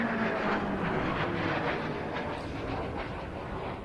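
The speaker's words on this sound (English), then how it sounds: "the Pilatus PC-21, giving us a nice run and break" A Pilatus PC-21 turboprop flies a run and break at the Royal International Air Tattoo, heard as a moderately loud, fairly distant engine rush that fades slightly toward the end.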